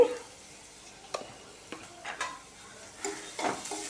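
Turmeric, chili and salt fry in a pan for cabbage coconut curry while a spoon stirs, giving soft sizzling broken by several intermittent scraping strokes, close and fairly quiet.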